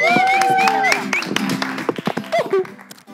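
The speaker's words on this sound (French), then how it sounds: "On applaudit." Scattered clapping rises from a crowd, sharp irregular claps building beneath voices and whoops, close and lively.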